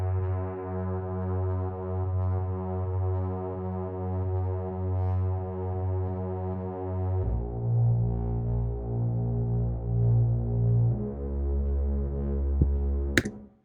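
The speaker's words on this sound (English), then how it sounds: "We have added a MIDI sound here. So this is bass sound," A solo synthesizer bass line from an Arturia Mini V plays deep, sustained droning notes with a rich buzzy tone, shifting pitch a few times, ending with a brief sharp click.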